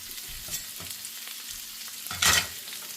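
Garlic hits hot oil in a bok choy stir-fry, giving a steady close sizzle with a brief louder hiss near the end and no voices.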